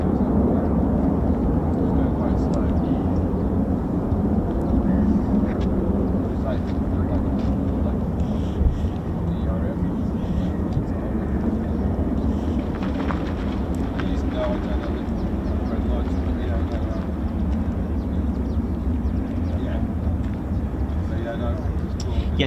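An F-15 or F-35 fighter jet taking off at RAF Lakenheath gives a loud, continuous, deep roar that barely rises or falls, with a voice talking underneath.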